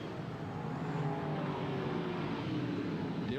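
Stock cars running side by side in a 1998 big-block modified Suzuki Shoot Out at the Cayuga County Fair Speedway, a steady blended engine roar with faint pitch sweeps held at constant loudness throughout.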